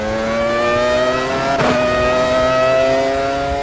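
The 2001 Ferrari F1 car's V10 engine screams in the racing game Automobilista 2, a loud, sustained high-revving whine with strong harmonic tones that climb slightly, and a brief burst of noise partway through.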